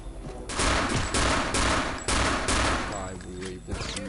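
Gunfire during a boss fight in the video game Return to Castle Wolfenstein: loud, repeated bursts of shots in quick succession, with short gaps between volleys and a faint tail at the end.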